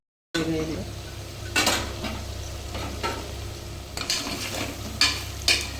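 Onions frying in a pan, with a steady close sizzle and several sharp scrapes and knocks of a ladle stirring them.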